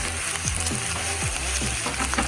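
Potatoes hiss and sizzle loudly in a hot pan while frying in oil for a street-style veggie frankie filling, with a steady crackle and a few utensil scrapes and stirs over it.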